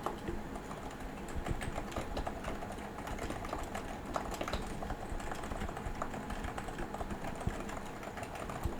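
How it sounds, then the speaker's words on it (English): Keyboard typing picked up through a microphone mounted on the arm stand of a FiFine T732 USB gaming microphone kit, a dense continuous rattle of key clicks with a steady low thump underneath throughout. "let's test out the typing on the microphone arm stand"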